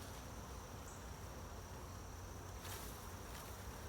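Buzzing of honeybees around a backyard beehive during a sugar-water feeding and inspection, a steady close-up insect drone running without a break under a faint outdoor hiss.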